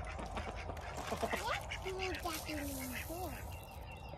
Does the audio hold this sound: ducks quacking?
yes